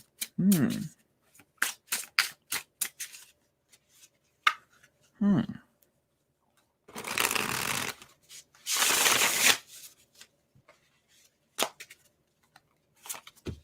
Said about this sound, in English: I love to shuffle